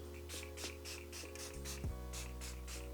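A face mist spray bottle spritzed onto the face before makeup, heard as a series of short, breathy spray bursts in a steady rhythm over a constant electrical hum.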